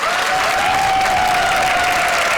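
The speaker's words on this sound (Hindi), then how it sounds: "तालियों से स्वागत कीजिए कांटे की टक्कर के ठाकुर बलदेव सिंह यानी शेखर सुमन" A studio audience on a Hindi comedy show applauds loudly and steadily to welcome guests, dense continuous clapping with a faint tonal hum beneath.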